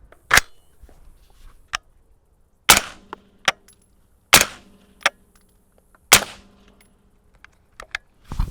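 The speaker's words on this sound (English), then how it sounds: "I may pull one plug out, fire just a couple rounds so I can give you a better opinion." SilencerCo Hybrid 46M suppressor on an AR rifle at a range, a handful of sharp, loud suppressed shots spaced a second or two apart, with smaller clicks and clanks between them.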